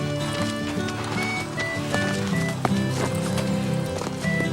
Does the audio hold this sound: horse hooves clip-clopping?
yes